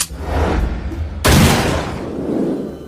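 Gunfire at a shooting target, with a loud broadband blast at the start and a second, sharper crack about midway, each followed by a long, ringing decay.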